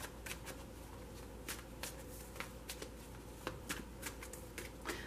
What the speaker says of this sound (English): I have pre-shuffled this deck, so I'm only going to shuffle it for a moment.